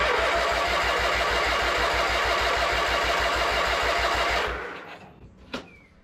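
A vintage Craftsman tractor's two-stroke engine turns over with the choke on, a fast, even chugging pulse for about four seconds that abruptly stops, leaving near silence broken by a single faint knock.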